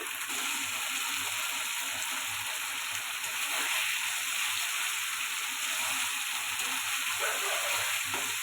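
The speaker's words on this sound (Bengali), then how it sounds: "ভালো করে কষিয়ে নিই" Pabda fish sautéing in hot oil with Kashmiri chilli powder, a steady close sizzle and crackle running throughout with no talk.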